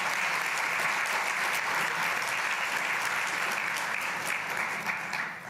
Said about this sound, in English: So if we could have a round of applause, let's show them some appreciation.